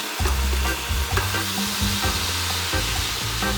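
Purple vegetables stir-fry on an electric stove, crackling and sizzling loudly while a spatula scrapes and knocks against the pan in a steady rhythm.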